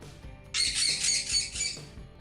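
A pet bird indoors gives one long, harsh, shrill squawk lasting just over a second, fairly loud and close over a quiet room background, with no talking.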